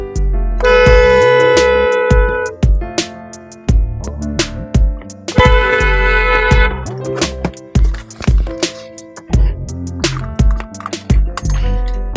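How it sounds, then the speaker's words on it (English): A car horn sounds in two long blasts at a gate, loud and close, and each blast gives way to short knocks and thuds. "Do you know how long I've been honking at the gate for you to open the gate for me?"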